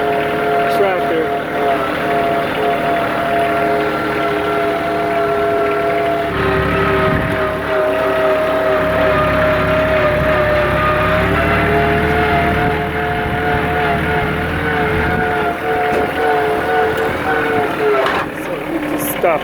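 A tractor engine drones steadily and loudly throughout while being ridden on a homestead grading job, with a sustained tonal hum that shifts slightly in pitch and wind-like rumble.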